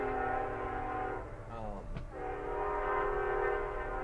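A train rolls by in the background with a long horn blast near the middle, steady rail rumble throughout and a voice speaking faintly over it.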